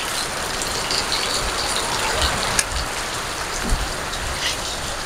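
Steady rain falls during the rainy season, a dense, even patter on a surface with a few louder drips and knocks standing out, close by with no voices.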